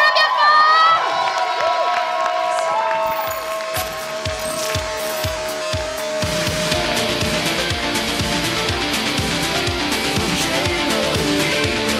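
At a solo cosplay contest, music with sustained tones opens, then a crowd breaks into cheering and applause for a cosplayer, a dense, lively roar that builds and fills the second half.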